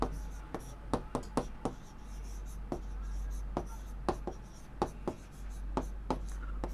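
Figures being written by hand, a steady run of close pen taps and scratches in an irregular rhythm over a low constant hum.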